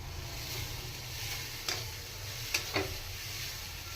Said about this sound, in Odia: ଏବେ ନଡ଼ିଆ ଚିନିକୁ ଆମେ ଭଲ ଭାବରେ ଭାଜି ନେବା।